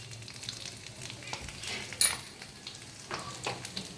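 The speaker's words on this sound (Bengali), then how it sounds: "চলো ফোড়নে দিয়ে দেবো 1 স্পুন গোটা জিরে।" Whole cumin seeds sizzling in hot oil in a pan, a crackling fry with scattered pops and the scrape of a spoon stirring, close and moderately loud, one sharp clink partway through.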